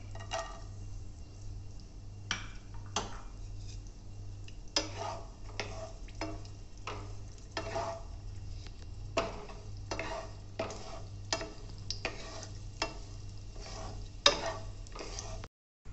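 Cashews and raisins fry in a pan for rava kesari, a soft continuous sizzle punctuated by regular clicking stirs and scrapes of a spoon, with no voices.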